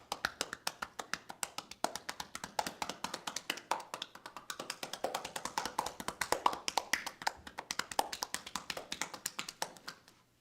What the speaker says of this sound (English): And one of the techniques is cupping.